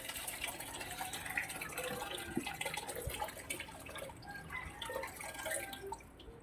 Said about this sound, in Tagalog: Lagyan ko ng kaunting tubig.